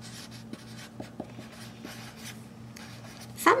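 Someone writes on a board during a math lesson, with scratchy marker or chalk strokes and light taps coming in short irregular bursts close by, and a brief louder scrape at the end.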